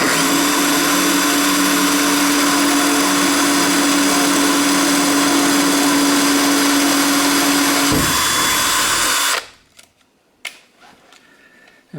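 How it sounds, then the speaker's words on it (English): A power drill bores a hole through a cabinet drawer, tapped for a 6-32 thread, whining loudly and steadily for about eight seconds before its pitch drops as the bit breaks through and the motor stops, leaving faint handling clicks. "we're going to drill a hole right through for our 632 tap"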